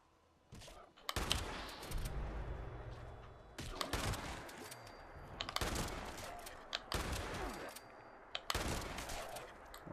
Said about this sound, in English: I was actually trying to shoot the ghouls. But yeah, it's a shotgun.